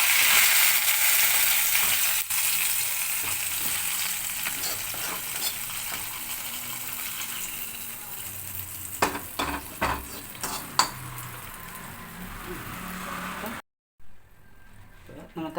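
Sizzling tempering poured into a clay pot of mackerel curry with roasted coconut, a loud hiss that fades over several seconds, with stirring clinks and a person talking.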